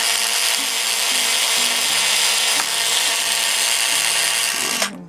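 A power drill bores a small pilot hole, running at a steady high whine with shifting pitch as it bites, then slows and stops at the end; close and loud.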